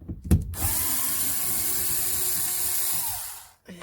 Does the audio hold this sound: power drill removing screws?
yes